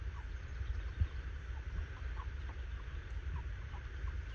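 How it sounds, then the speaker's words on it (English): White Rock Cornish Cross meat chickens forage outdoors, scratching and pecking at grass with soft, scattered clucks over a steady low rumble of wind or background noise. "on the White Rock Cornish Cross meat birds"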